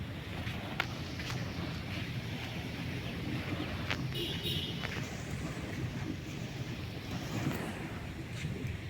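Wind and surf roll in at Pattaya beach in Thailand, where speedboats run offshore, a constant broadband rush with a few faint clicks and distant tones layered over it.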